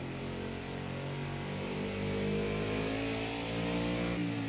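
Race car engine in Project Cars 2 drones at steady revs, then the pitch shifts as it is revved through a heel-toe downshift, loud and close with no talking.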